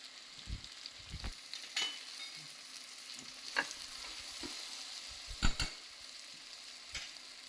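Cashews and raisins fry gently in a pan for Swaminarayan khichdi, giving a steady soft sizzle with occasional scrapes and clinks of stirring.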